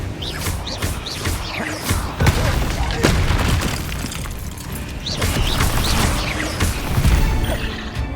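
Confringo spell blasts in Hogwarts Legacy on Xbox Series S, repeated heavy booms and crashes amid constant combat clatter and whooshing effects, loud and close, with a voice shouting over them.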